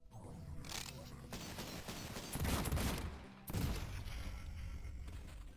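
Police enemies firing guns in the video game Cultic, dense rapid gunfire bursts over a busy combat backdrop, with a heavy volley near the middle.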